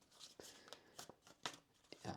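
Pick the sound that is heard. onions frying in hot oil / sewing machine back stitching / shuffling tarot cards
shuffling tarot cards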